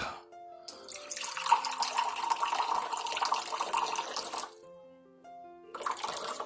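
Distilled water pours into a small measuring cup in a steady splashing stream for several seconds, stops briefly, then resumes for a short final pour, close and clear with no talking.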